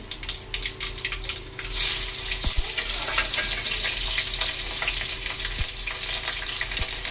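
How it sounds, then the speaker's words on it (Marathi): Hot oil sizzles loudly as mustard seeds crackle for a tempering, a dense crackle and scattered sharp pops, rising after a quieter start and continuing steadily, close by. "मोहरी आता तडतडली की आपण टाकूया मिरची"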